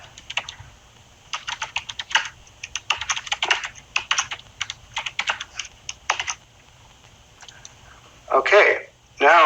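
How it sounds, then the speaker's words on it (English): Rapid keystrokes on a computer keyboard come in quick clattering bursts with short pauses as text is typed, followed by a brief voice near the end. "I'm just going to type in something like this."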